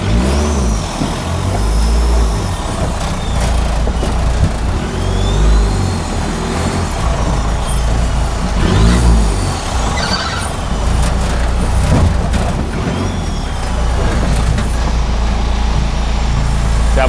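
A diesel off-road buggy built from used parts drives with its engine working steadily, loud and close, a continuous low rumble rising and falling with throttle and gear changes.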